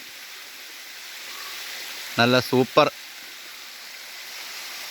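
A rocky forest stream near Chovvoor village in Kottayam district, Kerala, flows as a steady broadband rush from start to finish, with a person briefly speaking over it midway.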